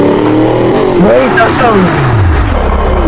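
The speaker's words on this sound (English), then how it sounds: "that's a nice engine sound." 6.7 liter V8 truck engine in the car-building game Automation, revving loudly with rising and falling pitch sweeps, close and prominent, while people talk over it.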